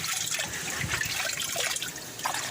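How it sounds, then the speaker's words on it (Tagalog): Water drains and trickles steadily from the drain hose of a Hanabishi twin-tub washing machine, a continuous, fairly soft splashing flow up close. "Check natin, drain natin."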